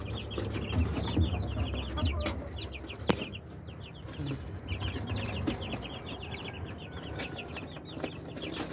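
Three-week-old Rhode Island Red chicks and crossbred native chickens on a farm, with steady soft clucking and chirping from several birds throughout and one sharp knock partway through.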